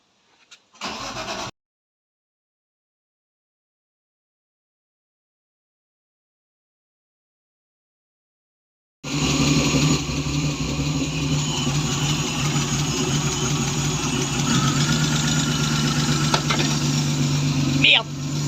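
A BMW E36 Compact fitted with a 320i engine makes a brief noise, falls silent for several seconds, then cranks and fires into a loud, steady idle that runs to the end.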